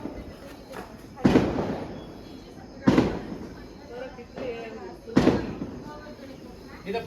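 Diwali firecrackers, including a bomb-type cracker, set off outside a family home. Three loud booming bursts sound a couple of seconds apart, each with a fading tail, and people talk faintly nearby between them.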